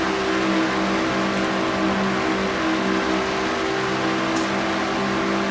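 Engine of the Texaco Havoline Ford stock car number 28, heard from on board in a racing video game at Charlotte: a steady, loud, sustained drone with constant pitch and no talking.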